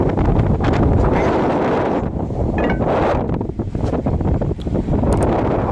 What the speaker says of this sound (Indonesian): Seperti ini ya, lagi angin besar lumayan.